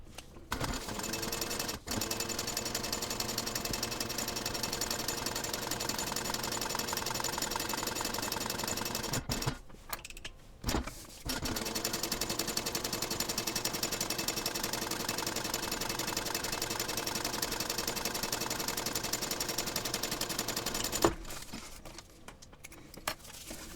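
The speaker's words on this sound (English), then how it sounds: "And now you're going to baste across the top and then close out the complete slip pocket." Sewing machine basting a line of stitching across the top of a slip pocket on a backpack, a loud, steady mechanical whir running nearly nonstop with two brief pauses.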